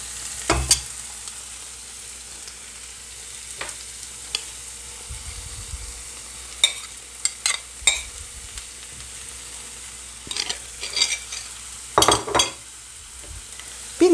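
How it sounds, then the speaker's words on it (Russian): Fried potatoes with mushrooms stirred in a pan, giving a steady close sizzle broken by several short scraping clatters of a utensil against the pan. "И сейчас я добавлю в нее наши грибы."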